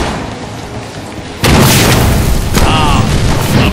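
A grenade explodes in the Deadpool video game: a loud, sudden boom bursts in over a steady game background and rumbles on, with a second blast close behind.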